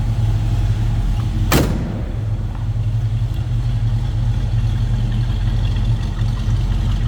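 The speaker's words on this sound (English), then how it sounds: "Nothing crazy over the top exhaust, just a nice sounding 327." A 1968 Chevrolet Camaro RS with a 327 engine and dual exhaust with chrome tips idles with a steady, even low rumble, broken once by a sharp click early on.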